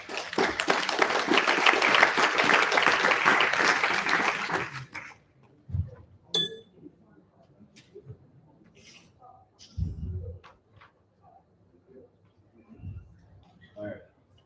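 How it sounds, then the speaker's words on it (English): Loud, sustained audience applause fills a conference hall at a Paris blockchain event for about five seconds, then gives way to scattered footsteps and quiet room noise. "Round of applause again, please"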